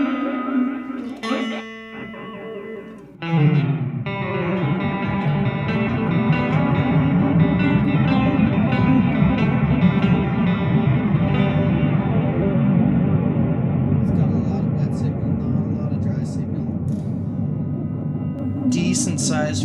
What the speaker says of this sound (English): it's on the Terra Echo mode, and it's modulating the delay time from 0 to 700 milliseconds